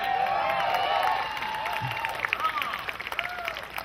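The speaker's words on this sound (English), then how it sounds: "you're taking that applause seriously" Applause and light cheering from guests at an Indian wedding in Portland, Oregon, a steady clapping crowd that gradually fades, with voices and chatter mixed in.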